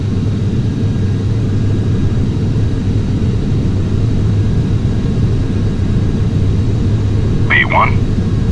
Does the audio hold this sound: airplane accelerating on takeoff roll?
yes